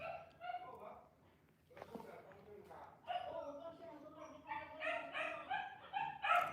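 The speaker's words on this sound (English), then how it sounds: "All of the loud dogs barking and people talking loudly." Dogs bark outdoors in the distance, a few yips and woofs scattered under a person talking indoors, faint and intermittent, with loud voices from outside mixed in.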